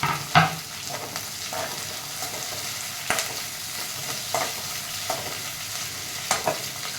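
Sliced green chillies and curry leaves frying in a pan, a continuous sizzle with bursts of crackling and occasional stirring clinks of a utensil.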